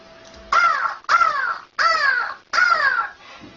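A human voice imitates a crow, giving four loud, harsh caws in a steady rhythm, close and alone with no other sounds.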